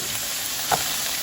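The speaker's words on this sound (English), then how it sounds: "Get that chicken stirred up, nice and good. Get all coated with the olive oil and the seasoning going." Chicken sizzles steadily in hot olive oil with seasoning, a continuous bright crackle with one soft scrape of stirring partway through, no voices.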